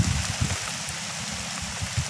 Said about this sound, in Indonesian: Deras pula hujannya nih.